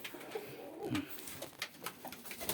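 Yeysk double-crested pigeons cooing softly in a dovecote during breeding season, a few faint low coos over quiet background noise.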